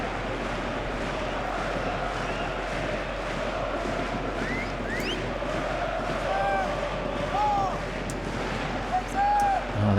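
A football stadium crowd at a third-division German match roars steadily as the home side wins a corner, with whistles and shouts rising over the broad noise and a commentator talking over it.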